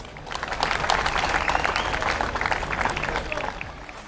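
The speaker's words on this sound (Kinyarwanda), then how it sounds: "Mumfashe tubakomera amashyi." An audience at a celebration event claps in a dense burst that swells quickly and holds steady. Voices mix in under the clapping.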